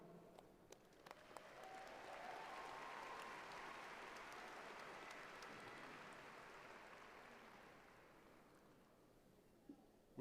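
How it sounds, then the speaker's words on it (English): An audience applauds a doctoral graduate at a December graduation ceremony, a dense, fairly distant wash of clapping that swells, holds and slowly tapers off. "Please join me in extending another round of applause for our doctoral graduate."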